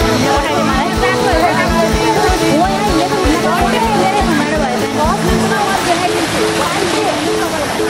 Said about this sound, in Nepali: यो घट्टा यहाँनिर पिसिन्छ पानीको फोर्सले यो चल्ने हो